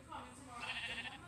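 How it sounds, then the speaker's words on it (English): A sheep in the video game Minecraft gives a single drawn-out bleat, soft and steady, lasting about a second. "And I spawned with a sheep."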